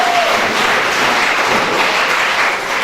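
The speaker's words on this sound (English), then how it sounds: "students, let us clap for our administration for the changes which they have made" Students applauding their school administration at a secondary school reunion gathering, a dense, steady wash of clapping filling the hall without a break, loud and close throughout.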